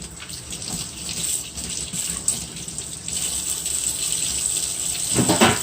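Tap water runs steadily over crab legs being rinsed for a seafood boil, a continuous splashing gush that swells louder near the end.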